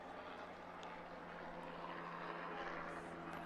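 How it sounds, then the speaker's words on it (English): A helicopter flies over a college club football game between Toledo and Ohio State, its faint, steady rotor drone humming in the distance beneath the open-air ambience of the field. "Here comes our helicopter to take us to lunch."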